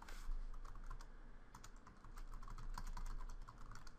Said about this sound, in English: I can type the itemize environment again